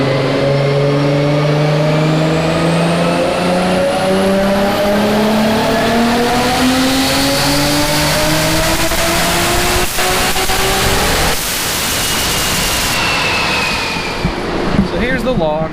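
A tuned Nissan R32 GTR engine revs hard on a test pull, climbing steadily through the gears with a loud, continuous, rising roar that fills the whole stretch.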